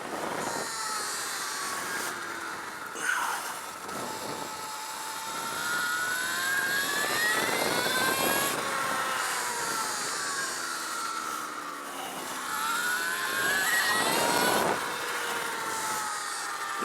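An Alta Redshift SM39 electric supermoto motorcycle laps a race track at Desert Park Raceway during a practice session, its motor whine rising and falling in pitch with acceleration and braking through the corners, loud and close.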